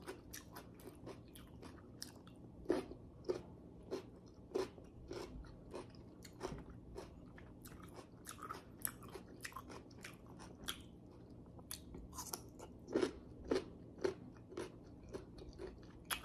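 Crunchy fried chicken bitten and chewed close to the mic, a steady run of sharp crisp crunches repeating across the whole stretch in a quiet room.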